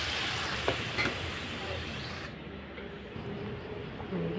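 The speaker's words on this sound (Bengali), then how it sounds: "এখানে আমি জল দিয়ে দিলাম।" Water poured into a pan of fried spices and softened apple for paneer curry brings a loud, steady hiss and sizzle at close range, with a clatter near the start, and the sizzle eases a little after the first couple of seconds.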